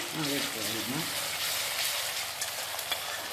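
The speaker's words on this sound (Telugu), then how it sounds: "ఇది కూడా పచ్చివాసన పోయేలాగా వేపుకోవాలి కదా మనం" Ginger paste fries in a pan with a loud, continuous sizzle and occasional stirring scrapes, while a voice talks briefly over the start.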